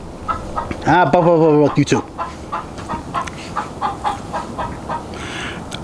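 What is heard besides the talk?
chicken clucking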